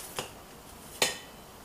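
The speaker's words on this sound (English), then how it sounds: "I'm going to cut off the stem" A kitchen knife cutting the stem off a cauliflower head, heard as two sharp clicks of the blade hitting the cutting board, a faint one and then a louder one, with no talk.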